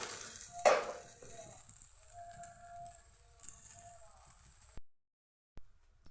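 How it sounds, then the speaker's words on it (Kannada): Okra frying in oil for chutney gives a soft, steady sizzle with a few stirring scrapes of a utensil against the pan, fairly quiet, then it briefly cuts out. "ಸ್ವಲ್ಪ ಚೆನ್ನಾಗಿ ಬೆಂಡೆಕಾಯಿನ ಹುರಿದಿದ್ದೀವಿ ಎಣ್ಣೆಯಲ್ಲಿ."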